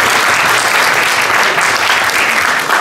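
Dense, steady audience clapping at an AEW All In wrestling event, loud and close, filling the whole stretch at an even level with a little crowd noise mixed in.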